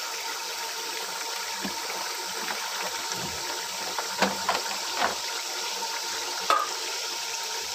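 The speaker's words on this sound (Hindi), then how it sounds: "अब हम इसमें हल्दी नमक मिर्च डालेंगे और इसको अच्छी तरह भून लेंगे" Meat browning in a pan with turmeric, salt and chili, a soft continuous frying hiss with scattered stirring scrapes and a few light clinks, fairly quiet and without voices.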